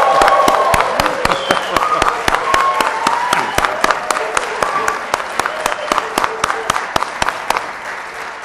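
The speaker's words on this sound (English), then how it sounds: "So let's give a round of applause and kick things off." Loud, dense applause from an audience at a NASDAQ bell ringing, steady throughout with sharp claps standing out and faint cheering and voices mixed in.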